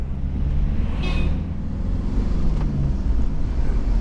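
Kia Pregio van on the move in India, a steady low engine and road rumble from inside the cabin with a brief hiss partway through.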